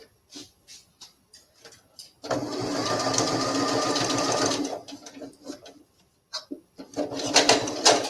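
A sewing machine stitches a scant quarter-inch seam on a doll, with a few short starts, then a steady close whirring run for a few seconds before stopping into more brief bursts.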